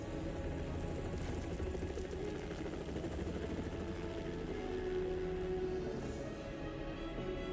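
A helicopter in the zombie copter ending of the Resident Evil Outbreak video game keeps up a steady rotor drone, continuous and even, with no talking.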